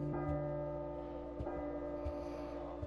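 A bell rings inside a video game, holding a steady, sustained chime over a low background hum with a few soft knocks. No one speaks.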